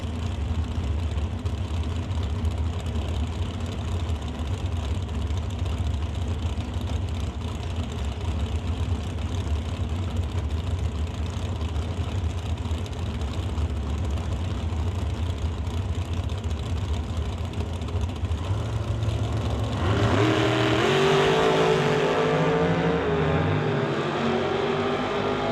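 Two drag racing dragsters rumble at a loud, steady idle, then erupt into a harsh, rising roar as they launch from the line at an outdoor event, the pitch climbing sharply near the end.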